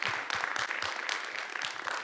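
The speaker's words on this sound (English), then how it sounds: "So you can clap for that." An audience at a speaker-series talk applauds, a dense patter of many hands clapping at once, fairly faint and steady for a couple of seconds, with no voices over it.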